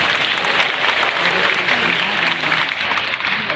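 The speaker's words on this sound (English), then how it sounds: "Let's give a round of applause to your principal, Greg Benton, for all that he does" A crowd at a high school graduation ceremony applauds the principal, with a sustained, even wash of clapping from many hands throughout.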